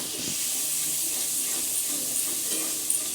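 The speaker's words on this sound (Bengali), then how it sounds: "পেঁয়াজ বাটা অ্যাড করেছি, এবার আমি খানিকটা সময় নেড়ে নেব।" Onion paste frying in a pan while being stirred, a steady close hiss and sizzle with a few faint scraping touches, no voices over it.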